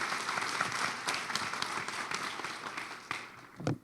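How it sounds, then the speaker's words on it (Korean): Applause for a professor at a digital economy forum, a faint, steady patter of clapping from an audience that fades toward the end, with one sharper clap near the close. "권한영 교수님께 다시 한번 박수 부탁드리겠습니다"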